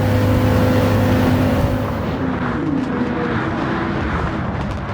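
Audi Quattro S1 tuned to 600pp in Gran Turismo 7, a loud engine revving high and accelerating out of a corner, then a gear change and a rougher, buzzing drone that stays close and steady.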